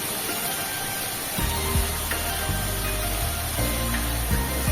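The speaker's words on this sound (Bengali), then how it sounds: "কিছুটা জল অ্যাড করে বেশ ভালো করে মশলার সঙ্গে আলু পটলগুলোকে কষিয়ে নিতে হবে" Potatoes and pointed gourd are sautéed with spices and a splash of water, sizzling and hissing loudly and steadily close by, with faint low thumps of stirring underneath.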